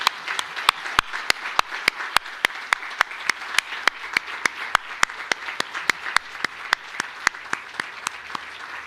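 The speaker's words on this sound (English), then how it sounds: "And we please have a huge round of applause for all our merits today." A crowd at a school merit ceremony applauds the award recipients in a steady, sustained wash of clapping. Sharp, evenly spaced claps from one nearby clapper stand out above the rest.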